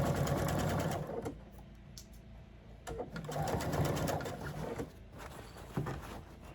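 Sewing a long seam on a quilt project, the machine whirs in a steady close run of fast stitching with brief slowdowns and handling noises, without any voices.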